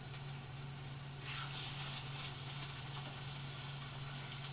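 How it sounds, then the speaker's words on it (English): Stuffed chicken breasts sear in a hot pan, giving a steady, close sizzle that carries on without a break and swells a little louder after the first second, with no talk over it. "And we hear that sizzle, you guys, that's what we want."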